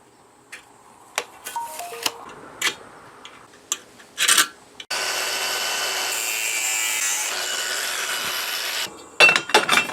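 A 5x5 square steel tube, 20 cm long, is cut in half in a workshop: scattered taps and clanks, then a steady, loud, continuous cutting whine for about four seconds, followed by a few more clanks.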